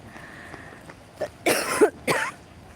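A few sharp coughs close by, two or three harsh bursts in quick succession after a quiet moment, with no talking.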